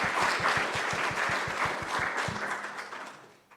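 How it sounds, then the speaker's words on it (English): Sustained audience applause at a Champaign County elections event, dense clapping filling the room for about three seconds before tapering off near the end. "Let's give them a round of applause."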